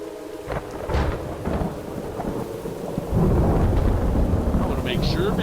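Rolling thunder and steady rain in the PS4 game Three Fourths Home, with deep rumbles building under a constant wash of rainfall that grows heavier partway through, and faint speech in the background.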